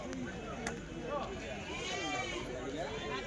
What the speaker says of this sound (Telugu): చూడొచ్చండి, ఇవి ఒక కట్ట గొర్రెలు అవుతుంది.